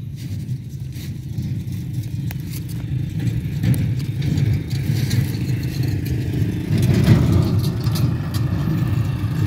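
The engine of a rice harvesting machine drones steadily in a paddy field, growing slightly louder toward the end, with light rattles over the low rumble and no talking.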